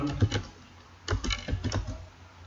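Computer keyboard typing during a Python coding lesson: two quick bursts of close keystrokes, with a pause between them, no talking.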